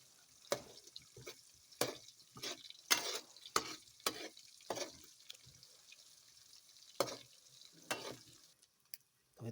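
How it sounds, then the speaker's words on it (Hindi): Slices of ginger and garlic fry with onions in hot oil, giving a soft crackling sizzle broken by repeated sharp scraping stirs, close and with no talking. "इसको भी तकरीबन 1 मिनट के लिए प्याज के साथ ऑयल में फ्राई कर लेंगे।"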